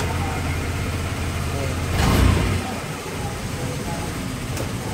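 A 2017 Honda Click 125i scooter started on its centre stand settles into a steady idle with one short rev swell, while people talk over it.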